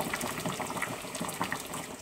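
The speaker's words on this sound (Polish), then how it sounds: "Posłuchajcie chwilę, jak pięknie bulgocze ten sosik." Pork cutlet sauce simmers in a pan, with soft continuous bubbling and small popping blips close by, moderately quiet and with no talking.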